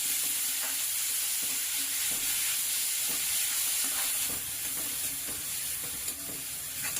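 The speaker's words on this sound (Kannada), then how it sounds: "ಫ್ರೈ ಮಾಡ್ತೀವಿ" Finely chopped vegetables and onion frying and being stirred in a pan for veg momo filling, a steady soft sizzle with faint scraping stirs throughout, no talking.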